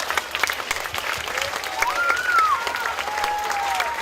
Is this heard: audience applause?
yes